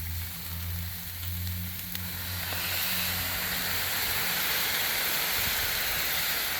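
Soy sauce hits a hot Blackstone griddle with pork and bursts into a loud, rising hiss that swells after a quieter start and then holds as a steady sizzle. No one speaks.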